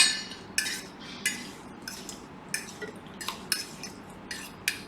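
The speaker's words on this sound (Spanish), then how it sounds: "Y vamos a revolver un poco." Focaccia ingredients being stirred in a bowl, with a utensil giving repeated sharp clinks and scrapes against the bowl in an uneven rhythm, close and clear with no talking.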